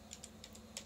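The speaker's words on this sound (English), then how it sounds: "So I'm going to have to do this the old-fashioned way on the keyboard." Typing on a computer keyboard during a PC test: a handful of quick, light keystrokes in irregular bursts against a low steady hum.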